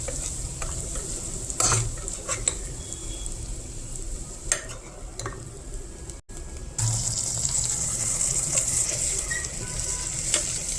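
Onions frying in a pan and being stirred, a loud continuous sizzle close up with occasional scrapes and clinks of the spoon, a brief dropout midway, no speech.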